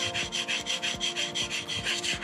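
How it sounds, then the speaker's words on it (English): A sanding block rubbed over drilled holes in a wooden base, a steady back-and-forth scrubbing with about ten even strokes, close and moderately loud with no talking. "Now take your sanding block,"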